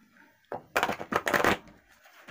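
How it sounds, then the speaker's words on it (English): A large deck of angel oracle cards is shuffled once, a close, soft burst of riffling flutters lasting about a second after a brief rustle. "One more shuffle here."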